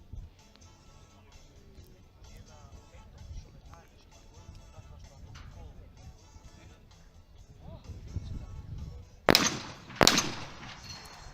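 Shotgun shots at skeet targets in the men's final of a world championship: two sharp, loud reports close together near the end, after quiet commentary-free background murmur.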